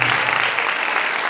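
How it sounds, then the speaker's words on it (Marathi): Audience applause at a ceremony honoring a guru, a loud, dense wash of clapping from a crowd that holds steady for the whole short span. "जोरदार टाळ्या झाल्या पाहिजेत."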